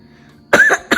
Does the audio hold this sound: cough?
yes